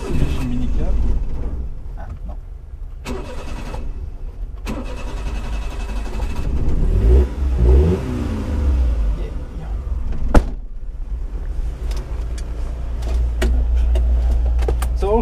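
A 1989 Mitsubishi MiniCab kei truck with its 550cc engine running steadily while driving, the low engine drone rising and falling with revs throughout, with speech-like sounds mixed in.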